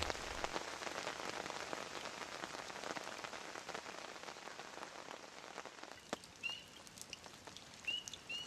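Dense rain patters steadily onto water, then thins out, leaving scattered drops and a few faint bird chirps in the distance.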